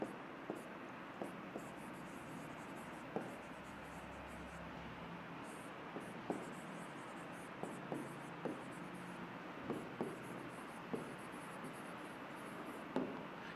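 A pen scratches out a question during an English grammar lesson, with soft strokes and light periodic taps under steady background hiss, faint and close.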